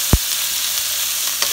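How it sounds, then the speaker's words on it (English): Minced garlic and onions sizzle in a pan as a steady, close hiss, opened by a single dull thump and later marked by a faint clink. "So then you add your onions in immediately."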